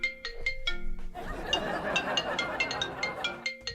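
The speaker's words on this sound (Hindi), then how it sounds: "ये फोन क्यों बज रहा है आपका?" A mobile phone ringtone plays a bright, repeating electronic melody at moderate volume, then gives way to a busy wash of clattering, chinking noise with the tones still poking through.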